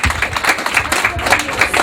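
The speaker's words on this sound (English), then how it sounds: "So I'd like everybody in the house to give a round of applause." A house audience gives a round of applause at an interview event, fairly loud continuous clapping with a steady rhythmic texture, faint voices mixed in.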